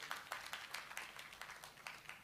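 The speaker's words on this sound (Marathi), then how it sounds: "आपण दोन्ही पाहुण्यांचं जोरदार टाळ्या वाजवून स्वागत करूया" Audience at a Marathi regional industry event applauding to welcome two guests onto the stage, a faint, distant patter of scattered claps with a loose, uneven rhythm.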